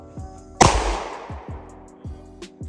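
A handgun is fired at a target in a shooting drill. One sharp, loud crack rings out and fades quickly, with faint, soft rhythmic ticks before and after it.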